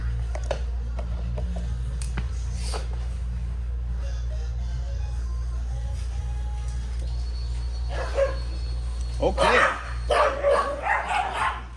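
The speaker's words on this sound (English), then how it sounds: "The dogs freak out whenever I turn the light on" Dogs bark in bursts toward the end while a Suzuki M50 motorcycle's rear lights are switched on. A steady low hum runs underneath throughout, and a person speaks briefly.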